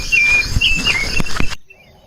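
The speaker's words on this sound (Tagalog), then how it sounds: "Ibon lang naririnig ko, daming ibon." Birds chirp outdoors in the early morning, thin high calls and tweets over a steady insect-like background, with a couple of soft thumps before the sound cuts to near silence.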